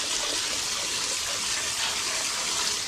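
Tap water gushing into a sink to rinse soily rhubarb, a loud steady splashing rush that runs unbroken throughout with no talking.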